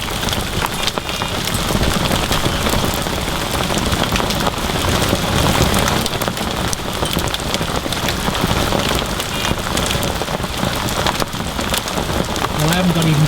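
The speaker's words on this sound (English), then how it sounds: "size of them bloody hailstones" Heavy rain with hailstones pelts down hard and steadily on surfaces at a carp fishing lake, a loud, dense, unbroken roar of impacts throughout.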